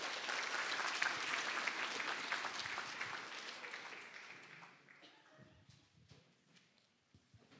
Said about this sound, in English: Let's give our top 3 a round of applause for our distributors.